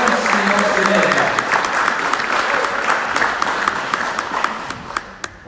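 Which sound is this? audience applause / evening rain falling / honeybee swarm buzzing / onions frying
audience applause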